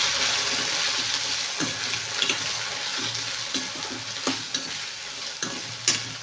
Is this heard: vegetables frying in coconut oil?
yes